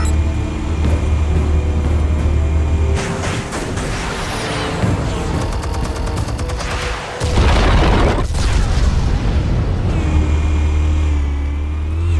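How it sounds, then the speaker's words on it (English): Explosives detonate in a Batman video game: a steady deep rumbling drone gives way to loud crackling blasts and debris bursts, a brief drop, then another heavy boom before the low rumble returns. "Explosives armed. Fire when ready."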